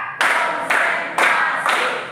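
In a classroom clapping game, four crisp, loud hand claps land in an even, steady rhythm, with no talking between them.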